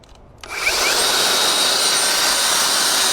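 A Makita XGT 40V cordless belt sander switches on and spins up within half a second into a loud, steady whirring roar that holds constant to the end.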